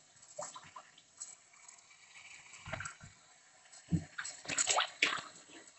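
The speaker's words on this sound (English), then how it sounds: "The first step is I'm going to rinse this in regular plain water." Water splashes and trickles as a clay pot is rinsed in plain water, with soft irregular sloshes and a few louder splashes near the end, close and fairly quiet.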